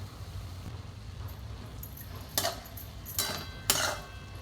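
A spoon stirs a moong dal mixture in a pan with soft scraping under a low background hum, followed by three sharper metallic clinks of the utensil against the pan.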